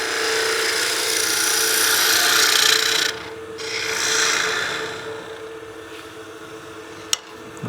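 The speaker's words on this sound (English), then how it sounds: "We'll use our spindle gouge just to square off the end of this tenon." A spindle gouge cuts across the end of a spinning wooden tenon on a lathe, giving a continuous close rasping scrape that eases off and returns. A sharp tap sounds near the end.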